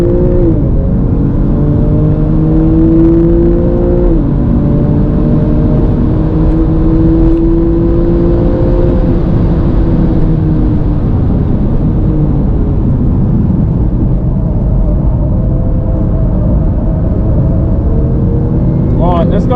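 A Porsche 997 Carrera GTS engine drones loudly and continuously through a track lap, its pitch rising and falling with throttle, with wind and road roar throughout and a voice talking over it.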